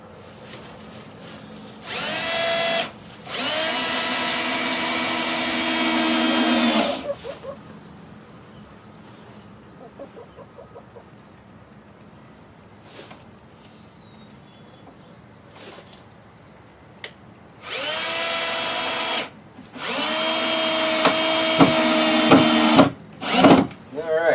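A power drill drives screws into a wooden hen nest in two long whining bursts, each rising in pitch as the screw seats, with quiet pauses and small handling noises between.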